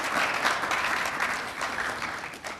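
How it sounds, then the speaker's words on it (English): A studio audience claps steadily at a Ghanaian sports programme, a dense wash of applause that tapers slightly toward the end, with no one speaking over it. "Can we clap for YEA, please?"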